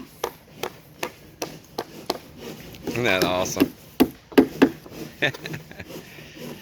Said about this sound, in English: They're just hammering and nailing right here by them,